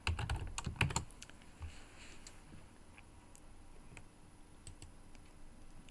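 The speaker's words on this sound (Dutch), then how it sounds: "Dan kun je hier nog wat typen." Typing on a computer keyboard during a Scratch coding workshop: a quick burst of close, loud key clicks at the start, then sparse, lighter taps continuing more quietly.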